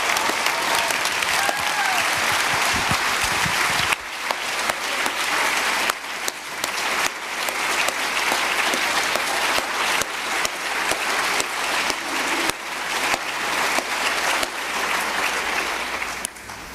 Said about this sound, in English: maybe you would allow me to ask for applause